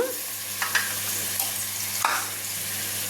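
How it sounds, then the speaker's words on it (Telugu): Tomato pieces and turmeric frying in a pan while being stirred: a steady soft sizzle with a few brief scraping stir sounds, close and moderately quiet, no talking. "పసుపు వేసాను టమోటా ముక్కలు కూడా వేస్తున్నా"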